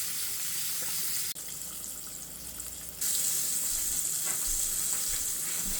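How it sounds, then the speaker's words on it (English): Steady hissing sizzle of fish frying in hot oil, close and continuous, with a brief pause and a louder, brighter sizzle resuming. "I'm going to finish frying this fish"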